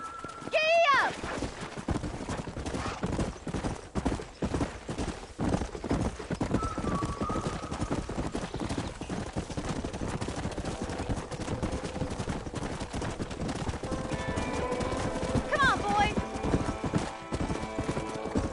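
A horse in the Red Dead Redemption 2 video game gallops with a continuous, rhythmic clip-clop of hooves throughout and a short whinny near the start. Game voices and music sit faintly underneath.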